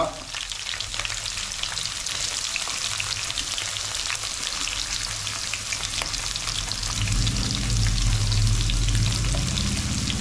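Onion, ginger, garlic and green chili sauté in a pan for a buffalo curry, giving a loud, continuous close sizzle and crackle that swells slightly toward the end, with no voices.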